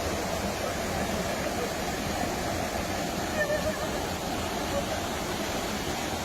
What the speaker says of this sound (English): let me play this and you can only hear just the waterfalls